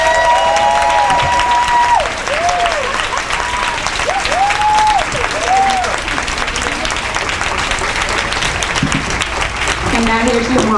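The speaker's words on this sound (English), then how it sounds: "can we all please give the presenters a huge round of applause?" Loud, sustained applause from a conference audience clapping for presenters, dense and continuous throughout, with brief whoops and a voice breaking in over the crowd.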